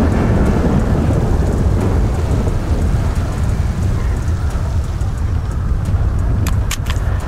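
Heavy rain pours steadily in a GTA RP game scene, a loud continuous wash with deep rumbling thunder underneath and a few sharp crackles near the end.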